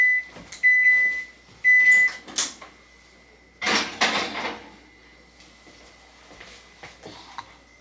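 A kitchen oven sounds a short run of steady electronic beeps, clear and fairly close, while pots, dishes and kitchen clatter come and go around it; no one speaks.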